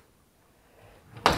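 A large wardrobe drawer in a one-bedroom apartment in Sevilla opens or closes with a single short, sharp slide and knock at the end of a quiet moment.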